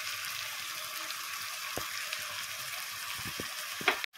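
Chicken pieces with two spoons of yogurt stir-frying in a pan for a chicken gravy, giving a steady, moderate hiss of frying with a few soft stirring clicks and a brief clatter near the end.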